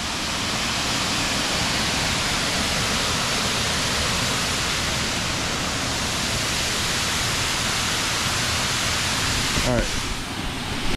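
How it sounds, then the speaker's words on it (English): Bridal Falls at Kagawong, a waterfall roaring in a steady, dense broadband wash heard close and loud for the whole stretch, with faint talk underneath. "Those are the falls from up above."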